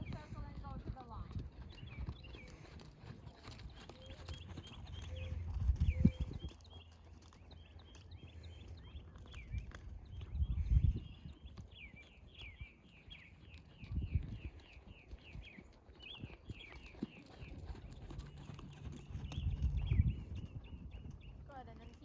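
Horse cantering in a riding lesson arena, with muffled rhythmic hoofbeats and several heavier thuds, plus faint birdsong in the background and an instructor speaking over it at times.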